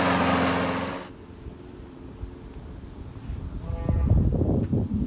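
Farm animals at feeding time on a farm, with a lawn mower running in the background. A loud burst of noise cuts off after a second, followed by quieter stirring and then animal calls rising near the end.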